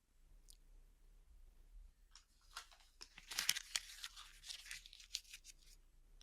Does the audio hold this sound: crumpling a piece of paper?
yes